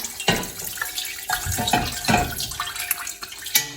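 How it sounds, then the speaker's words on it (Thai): Fish sauce splashing and trickling into a pot in a few uneven pours, close by, with clinks and knocks of kitchenware and no one speaking. "เทน้ำปลาค่ะ ใส่ลงไปในหม้อก่อนเลยนะคะ"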